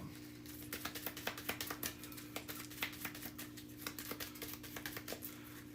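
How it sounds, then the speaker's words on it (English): Action cards from the Final Girl board game are shuffled by hand: a quick, uneven run of soft papery taps and clicks close by, quiet, with no talking. "I'm just going to kind of shuffle it a little bit."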